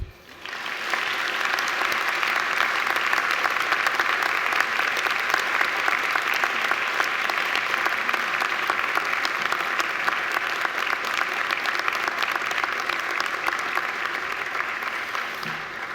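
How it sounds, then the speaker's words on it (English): Graduates at a university graduation ceremony applaud their families and friends, a dense, sustained round of clapping from a large crowd that rises quickly and holds steady for the full length, with no talking over it. "give them a mighty round of applause"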